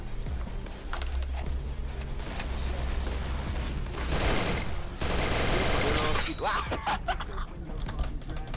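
A double-barrel shotgun fires in a shooter game, with sharp loud blasts and clattering bursts among other gunfire, keyboard clicking and bright crashing effects, and a player talking excitedly over the action.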